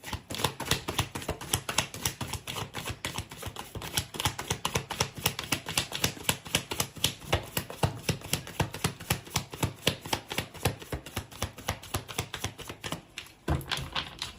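Tarot cards are shuffled in a rapid, close riffle of crisp taps and slaps that runs almost without pause and breaks briefly near the end.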